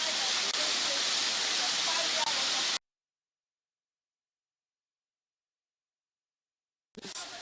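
Kparia Waterfall in the Savannah Region gives a steady, loud rushing hiss of falling water for a few seconds, then cuts to silence, with a brief burst of sound at the very end.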